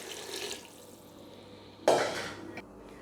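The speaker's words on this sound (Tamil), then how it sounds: "நம்ம ஒரு 1 லிட்டர் அளவுக்கு தண்ணி அதில் சேர்த்துடலாம்." Water poured into a cooking pot of fried masala for egg biryani, a sudden loud splashing gush arriving mid-clip over quiet kitchen background, tapering off after about a second.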